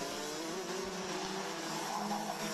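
DD2 Rotax racing karts on a track run past with a steady high engine whine, heard from a distance through dense, noisy race ambience without any clear single pass-by peak.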